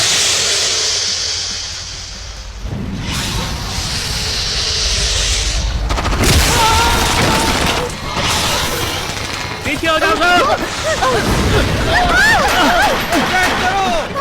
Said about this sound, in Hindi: गोलियां चलाओ